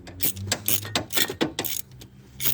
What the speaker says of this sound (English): you tighten the end of it up. It compresses the valve spring